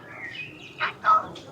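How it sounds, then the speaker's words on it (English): A cuckoo clock in a toy shop in Rothenburg ob der Tauber gives a short two-note call, moderately loud above a low murmur of room noise. "Oh, cuckoo clocks. I want one of these."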